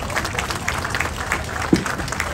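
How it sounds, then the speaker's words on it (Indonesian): Brief, moderate applause from an audience at a Jakarta governor's speech event, scattered clapping with a sharp louder clap or knock near the end. "kita beri tepuk tangan kepada semua yang bekerja keras di balik ini semua"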